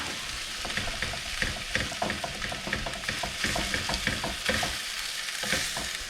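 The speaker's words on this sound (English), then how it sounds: "darken the top of the rice with soy sauce and stir" Rice stir-frying with soy sauce in a hot pan, a steady close sizzle broken by frequent scraping and clattering stirs, continuous throughout with no talking.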